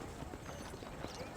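Faint horse hoof clip-clop from the Western video game Red Dead Redemption, soft and blurred under a dense wash of game background noise.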